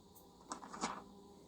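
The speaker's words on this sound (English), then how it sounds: "This is the sound of a page turning." A brief papery rustle and flap, a couple of soft swishes close by, with a quiet background hiss.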